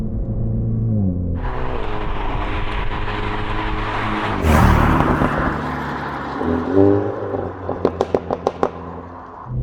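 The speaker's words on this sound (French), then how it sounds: "La réaction à l'échappement. La boîte est plus permissive, ça monte plus haut. Et on pétarade." A Renault Mégane RS Trophy in sport mode revs loudly up and down from inside the car, the engine note rising and falling before a quick series of sharp exhaust pops and crackles near the end.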